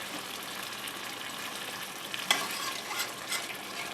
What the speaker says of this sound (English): And add the 1/4 cup of cream.